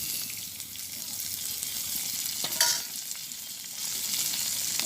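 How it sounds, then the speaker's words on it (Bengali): Onions and chillies fry in hot oil with a steady, broad sizzle that holds for the whole stretch, with a brief louder crackle midway and no voices. "শুধু পেঁয়াজ দিয়ে ভাজি করবো।"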